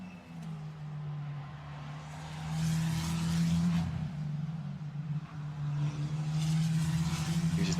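A Formula Renault Eurocup race car lapping Imola in qualifying, engine droning and rising as it passes, with a second surge of engine noise building toward the end.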